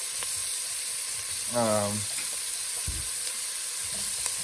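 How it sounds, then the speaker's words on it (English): Onions sauté in a pan with an even, soft sizzling hiss, and a short voice cuts in midway. "I'm gonna add the onions"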